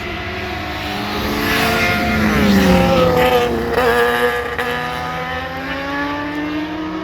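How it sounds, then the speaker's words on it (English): Motorcycles racing up Sunset Boulevard in Beverly Hills, a loud engine roar with rising and falling pitch as the bikes accelerate and pass, sustained over several seconds with street ambience. "So they're racing up and down Sunset, or racing up Sunset at about 100 miles an hour."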